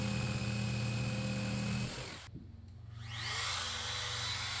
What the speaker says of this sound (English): Took a router and beveled the edge there so it looks a little nicer.